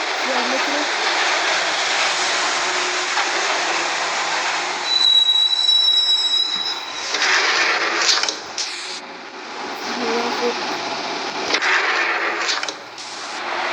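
Loud, steady rumble of a moving train with rising squeals and shifting roar, heard from inside a carriage with no talking.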